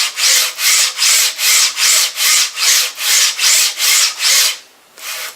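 A RobotDigg linear rail carriage makes a raspy, rhythmic sliding noise, repeating about a dozen times in steady back-and-forth strokes, loud and close, with a short pause near the end.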